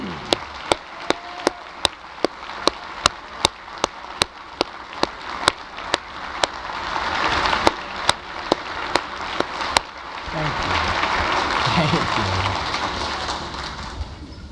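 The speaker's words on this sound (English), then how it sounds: "can we give them a great round of applause, please?" A crowd at a county State of the County address applauds veterans in the audience, a broad sustained wash of clapping that swells near the end, with regular sharp clicks running through it.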